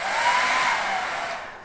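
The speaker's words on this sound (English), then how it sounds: "So what I've got is a hairdryer." A hairdryer runs steadily and close, blowing a continuous airy whoosh with a faint whine while warming a vinyl car seat cover on an MG Midget, then trails off slightly at the end.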